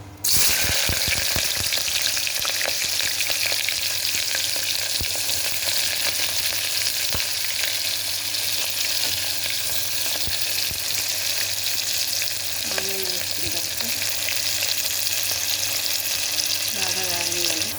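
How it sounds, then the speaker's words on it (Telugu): Onions frying in hot oil for a chicken gravy curry give a loud, unbroken sizzle close by, with occasional stirring scrapes and clinks throughout. "ఆయిల్ హీట్ ఎక్కింది ఫ్రెండ్స్ ఇప్పుడు ఆనియన్ వేసుకుందాం"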